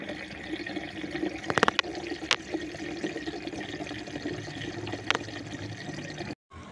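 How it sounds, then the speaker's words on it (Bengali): Water running into a plant sprayer tank in a dragon fruit garden, a steady close rush of filling with a few sharp knocks against the container, then cutting off abruptly at the end. "এবং জলটা আমি ভরে নিচ্ছি, দেখুন কতটা পরিমাণে জল দিচ্ছি।"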